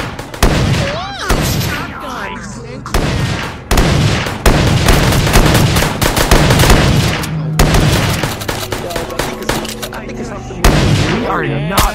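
Shotgun blasts in a Sonic zombie video game boom repeatedly in loud, dense bursts, with voices chattering over the gunfire throughout.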